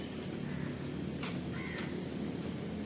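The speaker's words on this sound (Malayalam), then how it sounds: "യെസ്, കാക്ക വന്നു. ജസ്റ്റ് കാക്ക വന്നു." A crow caws outdoors, two or three clear calls in quick succession rising over a steady low background hum, fairly near and distinct.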